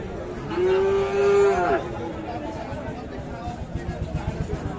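Crossbred cattle moo loudly at a cattle market in Kushtia, one long low call up close, then a busy crowd murmur and clatter continuing underneath.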